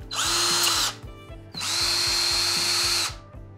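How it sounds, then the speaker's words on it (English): A cordless drill with a dryer vent cleaning brush rod chucked in whirs loudly in two bursts, the first about a second long and the second longer, with a brief pause between them. "Now, the brush system just works with your cordless drill."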